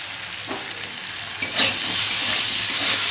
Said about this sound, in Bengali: মূলো আর আলুটা বেশ ভাজা ভাজা হয়ে গেছে।